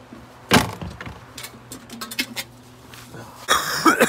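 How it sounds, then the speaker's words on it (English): A person with pneumonia coughs a few harsh times, close to the microphone, with faint background noise between the coughs. "I hate coughing like that"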